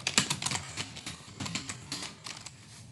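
Someone types a formula on a computer keyboard and presses Enter, giving a quick run of light, close key clicks with a few firmer taps, soft and alone.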